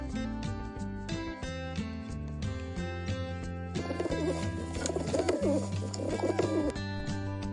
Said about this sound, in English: A dove makes that sound.